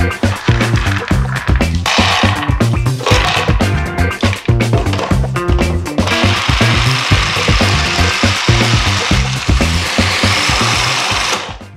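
A food processor grinds organic raw almonds, a loud, continuous mechanical whir with rattling chunks and pulsing surges that runs steadily for about twelve seconds, alone with no talk.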